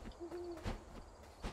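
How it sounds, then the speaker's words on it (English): An owl hoots in the video game Death's Door, a short, soft, clear hoot followed by faint quieter calls in a quiet night scene, with no talking. "There's an owl hooting."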